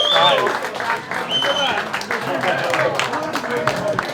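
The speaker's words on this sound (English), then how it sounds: "Coming round of applause, everybody that contributed here." An audience claps at a memorial gathering, a sustained crowd applause with whoops, and someone talks over it close to the microphone throughout.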